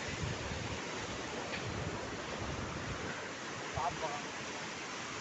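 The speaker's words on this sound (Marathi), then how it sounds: "समुद्रांच्या लाटांचा आवाज बघा शांतपणे" Sea waves wash onto the shore at Shiroda Beach, a faint, steady broadband hiss of surf with a soft swell near the end, heard from a distance.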